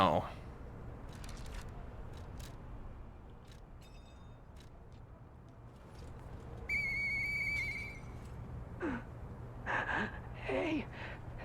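A video game whistle call, a short bright tonal whistle sounding midway with brief chirpy tones later, faint over soft background game noise and breathy sounds.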